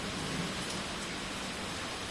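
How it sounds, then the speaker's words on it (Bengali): Heavy rain pours down in a dense, even hiss, close and continuous, with no voices. "জোরে বৃষ্টি নেমেছে এইবার, এত মেঘ ডাকছে"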